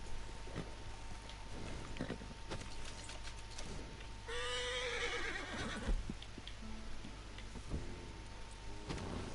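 Horse whinnying loudly in the middle amid clip-clopping hooves and ambient noise in Red Dead Redemption 2 online.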